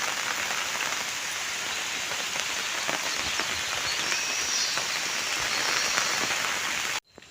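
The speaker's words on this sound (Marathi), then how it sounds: "खूप जोरात पाऊस आला आहे" Heavy rain pours steadily outdoors during a fishing trip, a dense, constant hiss of drops striking surfaces at close range, loud and unbroken until it cuts off abruptly near the end.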